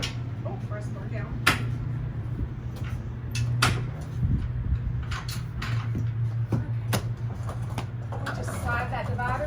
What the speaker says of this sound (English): Slide that divider easily over on the track and latch it back into place.